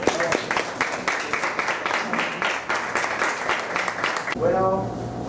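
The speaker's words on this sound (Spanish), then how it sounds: "Les doy un fuerte aplauso a sus compañeros." Students at a Day of the Dead school event applaud their classmates with brisk, energetic clapping from a room full of people, and voices mix in before it ends and a speaker begins.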